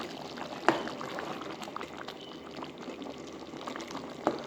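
Vegetable sauce for party-style shrimp simmering in a pot, with soft continuous bubbling and occasional louder pops close by.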